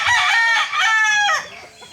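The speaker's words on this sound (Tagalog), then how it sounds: "Ang daming manok dito guys, nakakalula." A rooster on a farm crowing once, loud and close, in a long drawn-out call that breaks off near the end and leaves a short, quieter tail.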